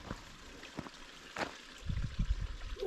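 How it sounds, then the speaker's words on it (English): A small stream flowing through a Northumberland valley, a soft continuous trickle and babble of water with low gurgling bursts growing stronger toward the end, heard alone without voices. "You can hear the stream"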